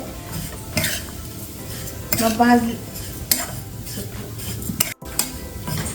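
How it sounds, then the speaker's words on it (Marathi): Dry vermicelli is roasted in a pan and stirred, giving rustling scrapes and a few metallic clinks of a spoon against the pan, with a faint sizzle underneath. "आपल्याला या शेवया 3-4 मिनिटं आपल्याला भाजून घ्यायचे आहे।"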